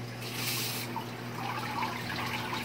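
Pump-fed misting nozzles in a hydroponic greenhouse, with water hissing and trickling steadily close by over a constant low mechanical hum, with no talk.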